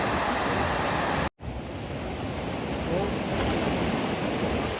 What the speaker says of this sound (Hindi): and it's one of the largest waterfall in Iceland in terms of its flow of water